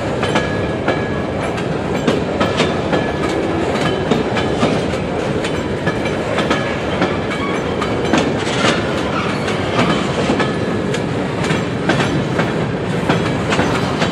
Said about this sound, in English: That westbound is going real fast.